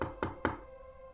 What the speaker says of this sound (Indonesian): Dengan pelan Rajib mengatuk pintu gubuk itu.